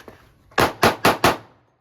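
Four rapid, loud shots from a Glock 29 pistol fed from a Glock 20 magazine with an X-Grip adapter, a quick evenly spaced string of close cracks that cuts off abruptly.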